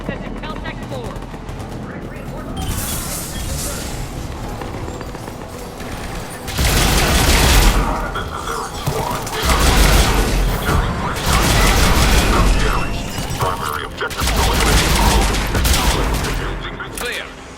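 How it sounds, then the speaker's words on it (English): Gunfire in a Mass Effect 3 battle: sustained volleys of rapid shots and booming bursts, swelling into loud, dense stretches and then easing briefly before surging again. "Taking enemy fire."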